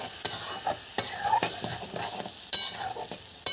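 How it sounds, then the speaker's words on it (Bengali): Spice paste with turmeric and water frying in a pan for Bengali sukto, a steady sizzle broken by several sharp scrapes and clinks of a spoon stirring against the metal, close and fairly loud throughout. "সামান্য হলুদ গুঁড়ো দিয়ে দিলাম জল মশলাটা অল্প কিছুক্ষণ কষাবো"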